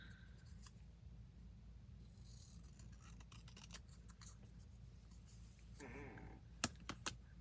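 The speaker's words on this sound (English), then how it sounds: "Things are sticking to my scissors." Quiet snipping and crisp scissor cuts through an index card scattered over a low steady hum, ending with a few sharp, louder clicks near the end.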